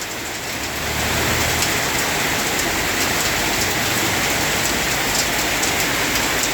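Heavy rain pours down steadily, a dense, loud hiss that swells after the first second and continues without pause.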